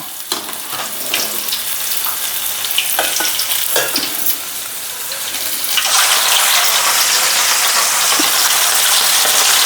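Fish sizzling in hot oil in a pan for a gongura fish fry, a steady crackling fry with occasional stirring taps that swells into a louder, fuller sizzle partway through.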